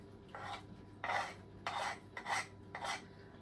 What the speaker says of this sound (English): I'm gonna use a spoon and get a bowl here and scrape this all into this bowl